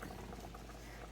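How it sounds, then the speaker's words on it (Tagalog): Soft, steady bubbling of tinola soup boiling in a pot, faint and close, with no voices. "Nakakatuwa yung tunog ng pagkakumukulo yung pagkain ng ASMR"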